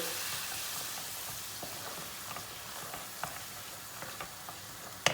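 Flour being stirred into melted butter in a pot for semolina halva makes a soft, low sizzle with faint scraping stirs and a few light clicks, ending in a sharper knock.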